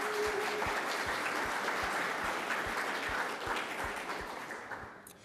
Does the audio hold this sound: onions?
no